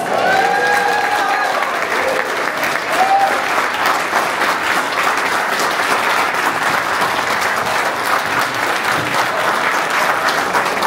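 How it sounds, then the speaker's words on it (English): Sustained applause from a large crowd at an Airstream RV rally in Paso Robles, California, steady and loud throughout, with a few faint voices mixed in. "I think we should give a giant round of applause to Kathy."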